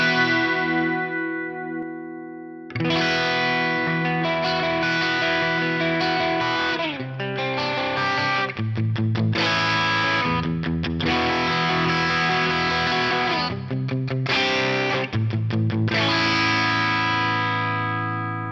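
Electric guitar run through a stereo chorus set like a TC2290 with phase reverse on the right side, playing strummed chords and sustained notes with a shimmering, slightly gritty wash, loud and continuous with short gaps and no talking.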